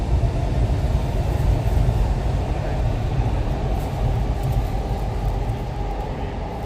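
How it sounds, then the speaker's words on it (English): A train rumbles along steadily at a distance in Tokyo, between Shimbashi and Ueno, a continuous low, rolling roar with faint rattling that slowly eases. "it's only the train sounds that I'm hearing."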